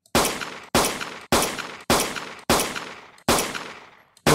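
Six evenly spaced loud gunshots from a weapon in a Unity first-person shooter game, each a sharp blast with a short decaying tail, then a clipped start of another at the end.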